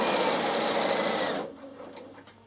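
A Bernina sewing machine runs in a quick, close burst of stitching, a fast mechanical whirr that stops abruptly, leaving a quiet room.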